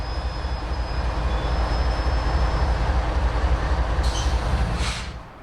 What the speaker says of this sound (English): this would be the only through train we caught